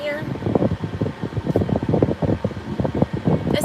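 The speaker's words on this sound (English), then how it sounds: "That's the air conditioner, it's not wind." An outdoor air conditioner runs with a steady whooshing hum under someone speaking in short bursts, the machine noise constant and close to the microphone.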